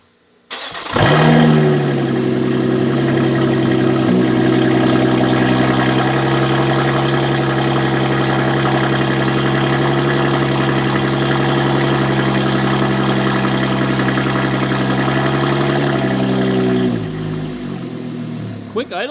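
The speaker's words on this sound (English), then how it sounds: "We're about to get a cold start." A Lotus Emira with a Valvetronic titanium cat-back exhaust cold-starts with a sharp bark, then holds a loud, steady high idle nearby for about fifteen seconds before settling lower.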